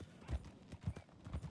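Hooves clip-clop in a steady walking rhythm from a horse in the Western game Red Dead roleplay, fairly faint, with a few heavier low thuds and a faint voice in the background.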